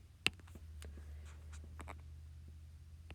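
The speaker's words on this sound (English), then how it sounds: "and we're going to write our equation." Pen or chalk strokes as an equation is written out during a geometry lesson on finding a circumcenter: a sharp tap, then a series of short, scratchy strokes at an irregular pace over a steady low hum, with no talking.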